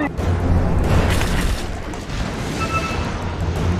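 A bomb blast in the video game Dota 2, a deep, loud booming explosion with a rumbling, crashing tail, mixed with excited player voices.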